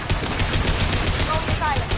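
Rapid automatic turret gunfire in Mass Effect Legendary Edition, a loud, dense stream of shots with a sharp metallic edge that runs without a break for two seconds.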